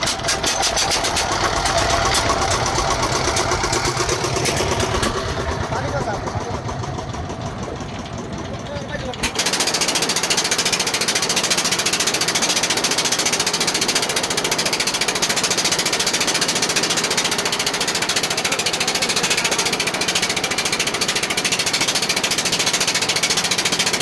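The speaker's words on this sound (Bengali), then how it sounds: "এই মুহূর্তে আমরা এখন ট্রলারটি স্টার্ট করে এখন চলে যাব তেঁতুলিয়া নদীতে" A fishing trawler's engine runs loud and steady on the Tentulia River during a hilsa fishing trip, a dense broadband drone that deepens and strengthens partway through, with voices faintly beneath.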